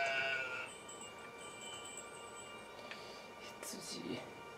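Sheep bleat in a calm farm scene from a gentle video game about a grandfather's memories, a couple of short faint bleats near the end over quiet music tones, with a player talking softly.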